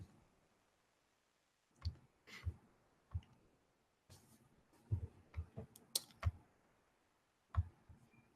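A computer mouse clicks while working in an Excel spreadsheet: faint, sharp clicks scattered in short clusters and pairs against a near-silent background.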